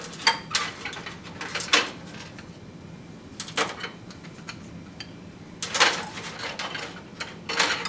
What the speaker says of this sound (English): place them all into this container.